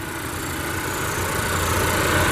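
A 2020 Volvo XC40 T4's 2-liter turbocharged four-cylinder engine idles steadily with a smooth, even hum and faint vibration, close and continuous with no talking.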